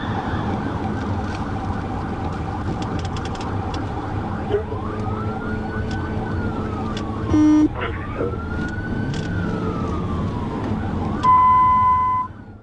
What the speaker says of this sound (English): Upon activating emergency lights and sirens, Jackson accelerated